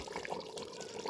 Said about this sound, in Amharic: ውሃ ጠብ እያደረኩ